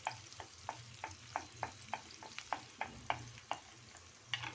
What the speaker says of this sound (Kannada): ಬಟರ್ ಎಲ್ಲ ಕರಗ್ತಿದೆ, ಅದರಲ್ಲೇ ಬೆಳ್ಳುಳ್ಳಿ ಸ್ವಲ್ಪ ಬೇಯಲಿ